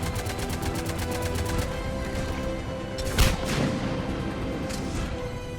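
Gunfire strikes a pod in Mass Effect 3 as a rapid burst of evenly spaced automatic shots, followed by a heavier impact boom and scattered hits. It is loud and continuous, with no talking.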